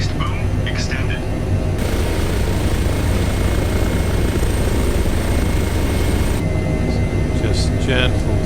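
H145 HEMS helicopter in Microsoft Flight Simulator, with a loud, steady turbine and rotor drone filling the whole stretch while a person talks over it.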